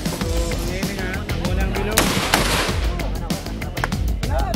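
Rapid gunshots from a modified R4A2 rifle with an attached scope at an outdoor shooting range, loud repeated sharp cracks in quick succession throughout, with some voices underneath.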